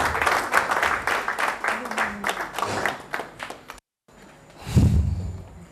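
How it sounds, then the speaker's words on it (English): Real estate seminar audience clapping for two people walking to their seats, brisk uneven applause mixed with talk that cuts off abruptly, then a short burst of noise. "Clap for my billionaires now as they go to their seat"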